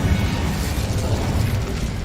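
The Incendio fire spell cast in Hogwarts Legacy, a dense, continuous fiery roar and crackle with a heavy low rumble, loud and sustained for about two seconds.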